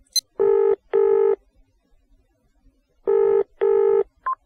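Telephone keypad dialing tones in the video game Barrow Hill: four clear, steady beeps in two quick pairs separated by a pause, heard alone and close.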